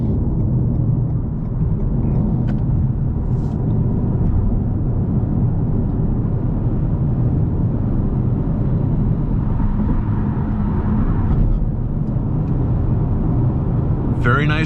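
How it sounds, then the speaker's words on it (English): Steady tire roar and wind rush fill the cabin of a 2023 Toyota Camry SE cruising on a freeway, a constant low rumble with faint whir, and a voice talks over it. "A little bit of tire noise, wind noise, not much to speak of."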